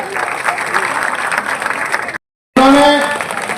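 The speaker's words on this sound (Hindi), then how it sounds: "इन सब इनका जोरदार तालियों से स्वागत किया जाए" Applause and crowd noise at a political workers' meeting in Bikaner welcoming guests, a steady broad wash lasting about two seconds, then a brief dropout, then voices and a tonal sound.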